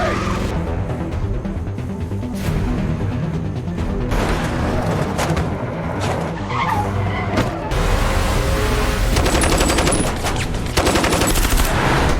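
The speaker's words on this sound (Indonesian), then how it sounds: "JD mengejar Matty dengan mobil kakaknya. Terjadi adegan kejar-mengejar yang sangat seru" Film car chase: loud tire skids and squeals mixed with revving engines and rapid bursts of gunfire-like cracks, continuous and busy throughout, with a dense music-and-effects backdrop.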